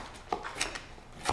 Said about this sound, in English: Yeah, go ahead and just rock and chop.